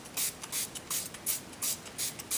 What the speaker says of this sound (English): spray some vinegar